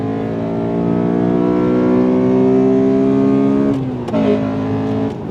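Honda Accord Euro R VTEC engine revs hard and loud from inside the car, pitch climbing steadily as it pulls through the gear, then a quick shift break and the engine picks up again.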